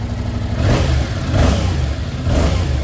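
A 2023 Yamaha R7 parallel-twin sport motorcycle revs hard in three rising pulls, loud and close, the engine note climbing and dropping with no one talking.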